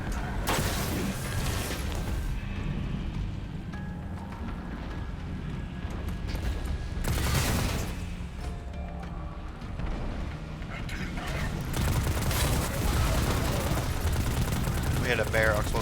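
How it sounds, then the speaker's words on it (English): Explosive barrel blowing up amid continuous gunfire and combat noise in a first-person shooter, with loud bursts around the middle and a dense roar of shots throughout, a voice talking over it. "We hit a explosive barrel there."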